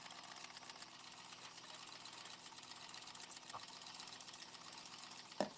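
A domestic sewing machine stitches a seam in a steady, continuous whir, with a faint background hum and a couple of brief clicks near the end.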